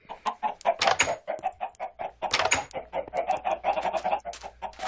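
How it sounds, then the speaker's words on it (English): Chickens on a Minecraft chicken farm cluck in quick, repeated bursts, several birds overlapping in a busy, close chatter with no talking. "if you can't tell by the sound, it doubles as a chicken farm"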